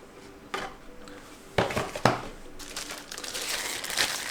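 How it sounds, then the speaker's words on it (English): A GameSir Super Nova T4N controller and its charging station are pulled from plastic covers, giving close crinkling and rustling with a few sharp crackles and handling knocks, heard alone without talk. "Let me take the controller out of the cover and same with the charging station."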